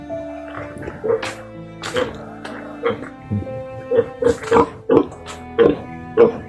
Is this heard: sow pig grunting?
yes